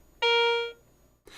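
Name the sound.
Garrett AC 250 metal detector coin alert tone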